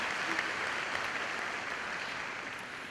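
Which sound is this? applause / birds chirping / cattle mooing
applause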